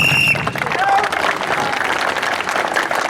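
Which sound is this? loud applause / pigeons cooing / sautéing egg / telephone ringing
loud applause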